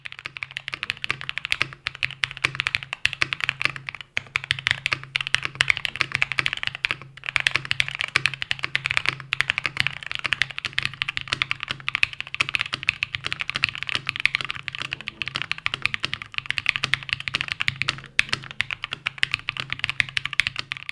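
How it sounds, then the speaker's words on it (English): Continuous typing on a CannonKeys Brutal V2 65% mechanical keyboard, a dense stream of close, crisp key clicks and clacks with occasional deeper spacebar thocks, no talking. "the obligatory sound demo"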